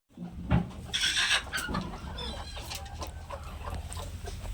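A brooding hen on her eggs clucking agitatedly up close as a hand reaches in, a sharp squawking burst followed by a run of irregular, fussy clucks.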